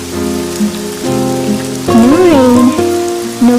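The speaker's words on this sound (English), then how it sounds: "May the sound of the rain remind you that growth can be painful" Falling rain makes a steady hiss of drops on a surface beneath loud, sustained melodic music tones that hold and glide throughout.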